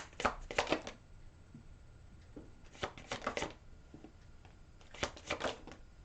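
Tarot cards are shuffled close by in three quick riffling bursts separated by quieter handling, crisp and fairly soft with no talking.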